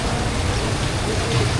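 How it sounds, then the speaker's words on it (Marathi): Early monsoon rain falls steadily in Mumbai, a dense, even wash of hiss and patter, fairly loud and unbroken throughout. "सकाळपासून पाऊस पडतोय"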